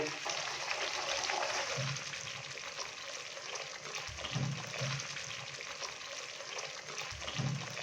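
Tomato paste made from two to three normal-sized tomatoes sizzles and fries in onion paste in a pan for Mughlai chicken lababdar, a steady close hiss with occasional stirring thumps.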